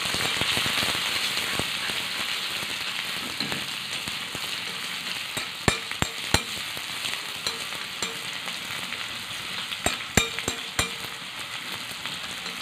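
Chopped shallots sizzle and crackle with mustard seeds in hot oil for a fish curry, a steady close frying hiss with sharp pops and stirring clicks throughout, no voices.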